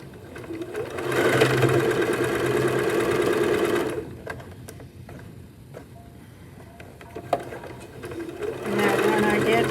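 A home sewing machine stitches fabric in fast, even mechanical whirring bursts, running loudly for several seconds, pausing amid small clicks, then starting again, close up.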